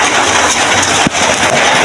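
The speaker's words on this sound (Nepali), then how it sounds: "ल पानी त निकै ठुलो पर्ने रहेछ यार" Heavy rain pours down in a rural village in Ilam, Nepal, a loud, dense, steady roar of falling water that fills the whole moment without a break.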